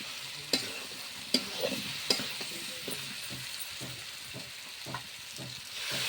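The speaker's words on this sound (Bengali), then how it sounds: "এখন এর মধ্যে এঁচোড় আলু দিয়ে দিলাম।" Young jackfruit and potato pieces sizzle in a spice paste, with several sharp scraping stirs and clatters of a spoon against the pan over a steady frying hiss, close and moderately loud.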